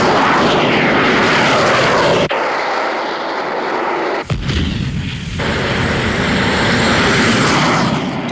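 A combat aircraft engine roars loud and continuous in flight, with abrupt cuts and shifts in tone partway through, as in a game or animated battle scene.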